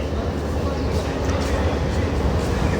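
Busy railway station ambience on entering a Dhaka station before a commuter train to Gopalganj: a steady low rumble and crowd murmur with scattered voices, continuous at moderate level throughout.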